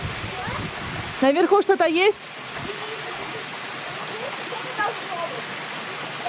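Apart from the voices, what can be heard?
small mountain waterfall flowing near Lake Panagia, Crimea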